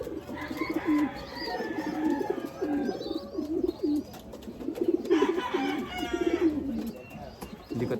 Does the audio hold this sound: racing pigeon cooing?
yes